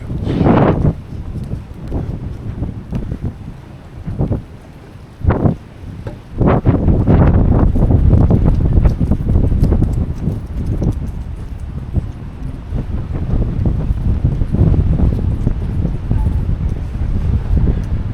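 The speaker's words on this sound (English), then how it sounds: "I don't know if you can hear me, but it really is windy" Strong gusting wind in Palma de Mallorca buffets the microphone with loud, uneven rumbling bursts that swell and fade throughout, broken by brief quieter gaps.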